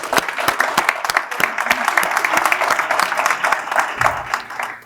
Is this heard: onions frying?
no